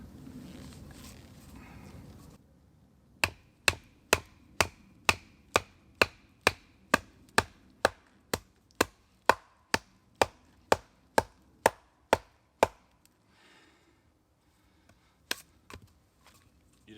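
A Keresuando SS 100 bushcraft knife chops into a big log outdoors with about eighteen evenly spaced, sharp knocks in a steady rhythm. A few softer strikes follow after a pause, and faint background noise sits before the chopping starts.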